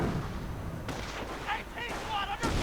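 Mortar fire from a mortar half-track in a World War II strategy video game, a few dull muffled booms and crackling impacts over a busy battle backdrop with faint chatter.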